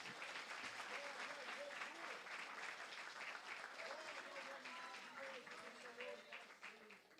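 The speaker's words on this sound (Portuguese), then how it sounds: "Pode aplaudir o Senhor por isso?" A church congregation applauds in a continuous, fairly faint wash of clapping, with voices and sustained vocal tones rising over it.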